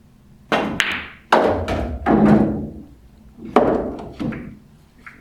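A cue ball is struck for a stop shot in a nine-ball pool game, heard as several sharp, close thuds and clacks spaced across a few seconds with quiet gaps between.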